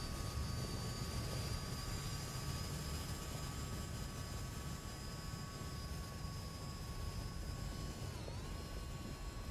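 Aircraft engine in the War Thunder combat flight game during takeoff with landing gear retracting, a steady loud drone with sustained tonal whine that dips briefly in pitch near the end, no talk over it.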